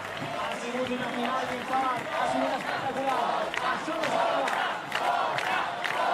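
A large crowd roars and shouts at the men's skateboarding final of Extreme Barcelona 2023. The rowdy noise rises and falls continuously beneath excited commentary.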